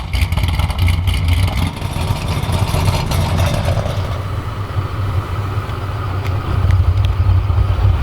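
A Corvette C6 Z06 with a newly installed exhaust runs while warming up, producing a loud, close, deep rumbling idle with a slight rise in revs midway and a heavier swell near the end.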